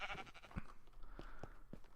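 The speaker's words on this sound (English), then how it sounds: "Look at the size of this sheep farm I got." Sheep bleat in a small Minecraft sheep farm holding two animals, giving a few short, fairly faint calls spaced irregularly over quiet game ambience.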